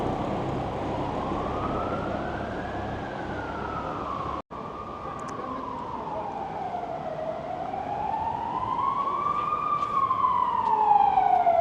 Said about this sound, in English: the sirens are going off. That's like a 5th fire truck I've seen.